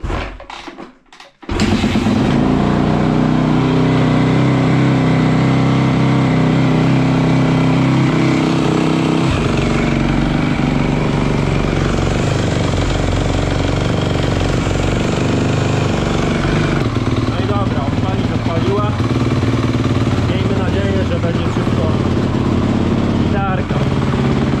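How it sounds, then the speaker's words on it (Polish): Rebuilt 2013 Yamaha YZF 250 motorcycle engine running loud and close after starting, revving and holding a steady rough roar throughout, with people talking over it. "trochę gazu damy"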